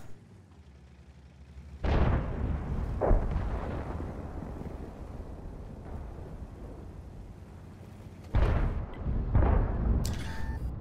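Heavy cannon shots in a tank game featuring a T95/FV4201 Chieftain and an IS-7, several deep booming blasts with rumbling tails, two close pairs spaced apart over low ambient rumble.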